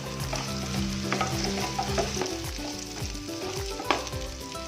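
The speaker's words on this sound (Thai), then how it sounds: "มาผัดผักกันเลยนะคะ" Vegetables such as cabbage and broccoli stir-fried in a pan, sizzling continuously up close with repeated scraping stirs of a utensil against the pan and no talking.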